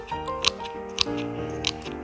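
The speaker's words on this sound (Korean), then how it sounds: "나무의 뿌리는 잘라주시는 게 좋아요" Shears snip through tree roots during planting, giving three crisp cuts spaced about half a second apart over a steady background hum.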